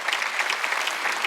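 A church congregation claps at a Sunday worship service, dense steady applause from many hands filling the room, loud and continuous.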